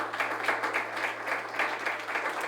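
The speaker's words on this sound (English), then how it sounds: "A big round of applause for Lukas once again" An audience of architects in a room claps for speaker Lukas at an open talk, steady moderate applause from many hands that holds evenly throughout.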